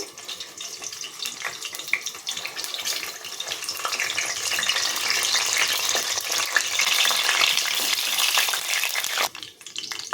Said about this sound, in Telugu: నేనైతే ఫస్ట్ వంకాయలు వేపుతానండి